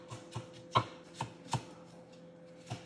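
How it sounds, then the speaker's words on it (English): Knife chopping onion on a board for jollof rice: a handful of sharp, separate cuts spaced irregularly, close and moderately loud, over a steady low hum with no talk. "I'm going to just chop a little bit real quick, get that in the oil"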